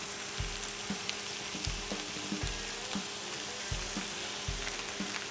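Beef filling with ground tomato and apple sizzles and fries steadily in a pan, a close, constant crackle with soft periodic stirring knocks and no voices.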